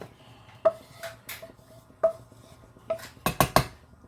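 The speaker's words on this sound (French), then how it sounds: "Donc là, nous mettons nos poivrons." Bell peppers drop into a pan of chili with sharp clinks and knocks of utensils against cookware, several isolated taps followed by a quick cluster of louder clatters near the end.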